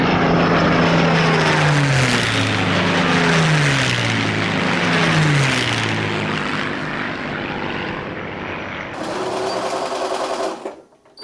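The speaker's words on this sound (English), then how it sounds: "we're sewing down one side along the bottom, and then we'll sew up the other side" A sewing machine runs at high speed stitching the seam of a reusable shopping bag, a loud continuous droning whir that holds steady for about ten seconds before cutting off.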